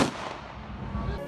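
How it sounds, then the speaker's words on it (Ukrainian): A final rifle volley at a Ukrainian military funeral in Ternopil cracks out sharply at the very start, then fades into a rumbling, noisy decay that lasts about a second. "Звучить останній салют на честь загиблого героя."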